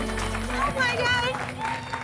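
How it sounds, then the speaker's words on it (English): An audience at a business talk show claps loudly and cheers for a star guest being brought on stage. The applause is dense and steady, and high whoops and whistles rise over it for about two seconds. "Clap loudly."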